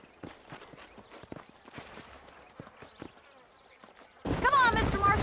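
Horse hooves clip-clop in the video game Red Dead Redemption, a quiet uneven plodding rhythm of several horses, before a louder burst of other game sound cuts in at the end.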